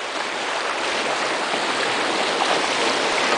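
Canoe on the Kinnickinnic river with water splashing: a steady, loud rush of moving water fills the whole stretch without pause or voices.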